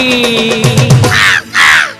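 Crow-like caws in an Odia folk song, two bright harsh bursts in quick succession following sung melody with music; the calls ring out loud and clear over the accompaniment.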